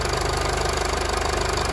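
A 2014 Mercedes-Benz GLK250 BlueTec diesel engine idles steadily up close, a loud, even mechanical clatter with a regular low pulsing throb and no voices.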